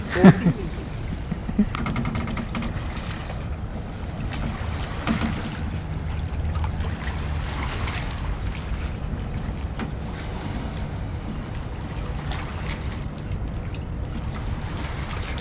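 A small fishing boat rides the open sea off Qatar, its motor and hull giving a low rumbling drone under gusting wind noise, with a few knocks near the start and faint voices now and then.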